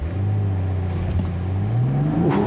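A 2023 BMW Z4 M40i roadster with its top down and sport mode engaged accelerates hard, its engine note rising steadily in pitch as it revs, loud and close with no talking.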